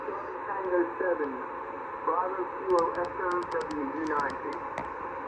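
Weak signals come in on a Yaesu FT-890 receiver: faint, band-limited radio voices over a soft hiss, joined late by several short, high, repeated beeps.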